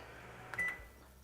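Kitchen timer giving a single short electronic beep as it is set, faint and brief against a quiet room.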